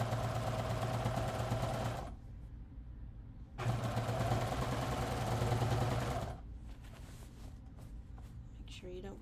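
A serger stitches along the curved edge of fabric for mod pants made from a thrifted sheet, its fast mechanical whir running in two loud bursts with a short pause between, then stopping into quieter handling noise.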